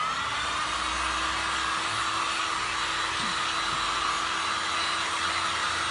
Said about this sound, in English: let me dry this with my dryer, with my heat gun